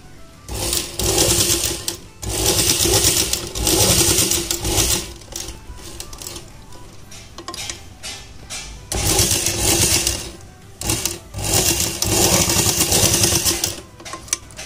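Sewing machine stitching a kurti neckline, a loud rapid mechanical chatter running in long bursts of several seconds, separated by short pauses.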